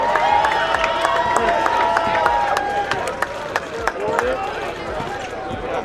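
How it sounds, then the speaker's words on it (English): A crowd at the Under Armour Elite 24 basketball event applauds and cheers for the night's MVP, a dense, lively mix of clapping and shouting with voices talking through it and sneaker squeaks on the court. "please give a round of applause for tonight's MVP from Team Havoc"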